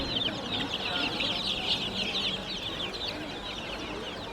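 Live chickens cluck in the poultry section of a farmers' market in Fergana, a continuous busy chorus of fowl calls at moderate volume.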